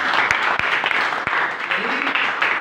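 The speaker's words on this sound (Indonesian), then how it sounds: "Yang kesimpulan, tepuk tangan dulu." A classroom group claps together in a teaching session, a brief burst of brisk, scattered handclaps with a few sharp louder claps standing out over a few seconds.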